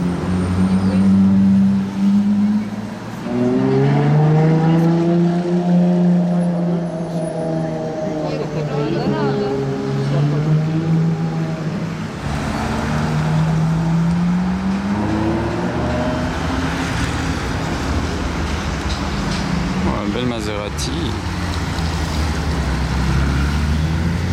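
A Ferrari 812 Novitec N-Largo supercar drives past with a loud, rising and falling engine roar that shifts pitch through several gear changes, close and dominant throughout, while people talk over it.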